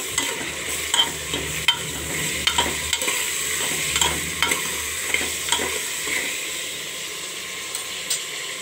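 Chopped peeled tomatoes stirred into onions frying in a pan, giving a steady sizzle with repeated scraping stirs and light clinks throughout, close and moderately loud with no talk.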